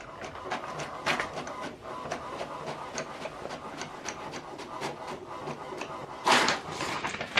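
An HP Deskjet printer printing the first side of a document over a USB connection, giving steady rhythmic mechanical clicking and shuttling close up, with a brief louder whirring burst near the end.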